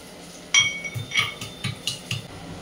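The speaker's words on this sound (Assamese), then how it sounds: "আৰু এতিয়া মই পিঁয়াজখিনি ভাজা যায় আদা নহৰুখিনি খুন্দি ল'ম" Ginger and garlic being crushed in a home kitchen while onions fry, a series of irregular metallic knocks and clinks, moderately close, with no talking.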